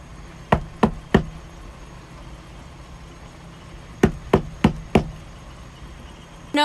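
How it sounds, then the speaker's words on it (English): Knocking on the outside of a van at a campsite: a group of three sharp knocks, a pause, then four more, fairly close and loud against a quiet steady background hum. "she suddenly heard someone knocking on the outside of her van"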